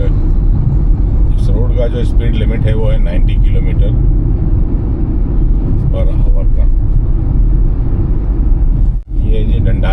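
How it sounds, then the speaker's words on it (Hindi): A car cruising at 80 km/h on a highway near Doraha on a road trip toward Ludhiana gives a loud, steady engine and tyre rumble throughout, with a brief dip near the end and people talking over it. "इस समय हमारी गाड़ी 80 की स्पीड में चल रही है"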